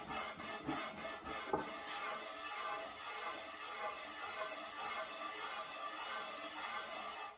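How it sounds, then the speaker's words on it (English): Sticky-back sandpaper scrubs across an old, fairly flat piece of countertop, making a steady, close rasping that runs without pause and carries no voices. "And that will help me sand the surface of this nice and even."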